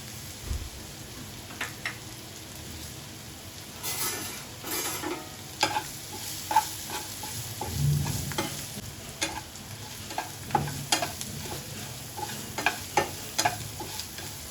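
Potato pieces fry with curry leaves in a pan, a soft continuous sizzle broken by scattered scrapes and clicks of stirring, close and moderate with no talk over it.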